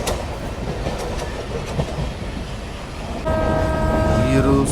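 Passenger train rolling along the rails in a steady rumbling clatter from inside the carriage, loud throughout, with a set of sustained tonal whines or horn-like tones rising in the last second and a half.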